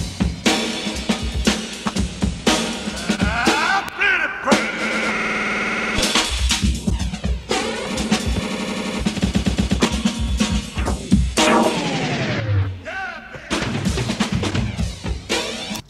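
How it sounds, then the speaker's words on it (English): A drum loop run through heavy effects from the Native Instruments The Finger plugin, distorted and glitchy, with sweeping filter changes and pitch-bending warbles throughout, loud and continuous. "we'll start with the drum loop"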